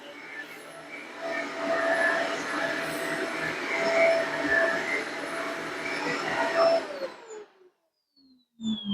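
A Shark Apex AZ1002 vacuum cleaner runs on carpet with a steady whining roar and faint shifting tones, close by, then cuts off abruptly near the end, followed by a brief quiet moment and a short noise.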